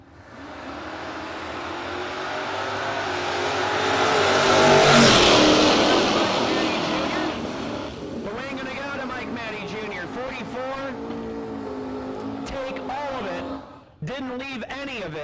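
Drag race cars, the Divine Racing Camaro and a Firebird, roaring past in a swelling, fading engine rush, then idling and revving under a track announcer's voice.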